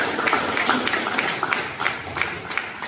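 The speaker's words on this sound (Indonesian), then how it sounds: "Tepuk tangan untuk Bapak Yuliatmono" Audience applause in honor of Bapak Yuliatmono, a mentor, at a gathering: dense, steady clapping from many hands that stays loud and continuous for about three seconds with no voices.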